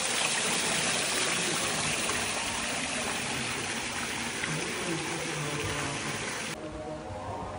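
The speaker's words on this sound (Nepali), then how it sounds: "हिमालबाट आइरहेको पानी" Himalayan-fed water spills down an artificial waterfall at an ashram, a dense, steady splashing rush heard up close and continuous, easing slightly toward the end.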